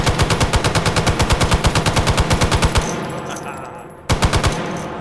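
An M60 machine gun firing in the VR shooter H3VR: loud, steady full-auto bursts at a slow cyclic rate, a short pause with a ringing tail, then another brief burst.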